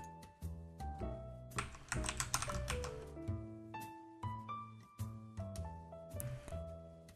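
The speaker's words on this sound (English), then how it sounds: "hit the Windows button on your keyboard and type Windows features" Clicky keystrokes on a Windows computer keyboard tap in short irregular runs, with sustained tonal background sounds alongside and no speech.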